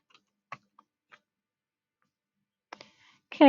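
Sparse clicks of typing on a computer keyboard come as single keystrokes with long silent gaps, then a short cluster near the end just before a voice begins.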